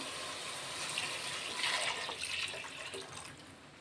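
Water pours steadily into a cooking pot with a continuous splashing hiss, fairly faint and close, swelling briefly midway, with no talking.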